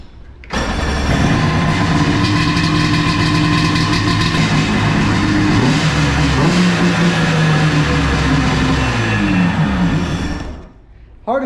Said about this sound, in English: I'm gonna fire it up so you can hear how good this two-stroke actually sounds